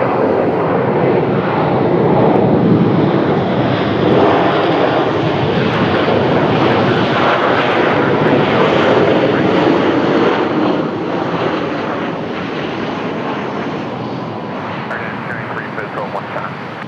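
An airliner touches down at a busy airport with a broad, loud engine roar that holds steady and then eases slightly as it rolls out.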